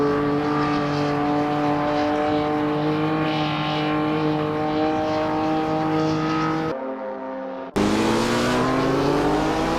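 Vintage sports cars racing at Donington, engines droning loudly with steady high-revving tones from several cars close together, then a brief drop and a sharp rise as revs climb again.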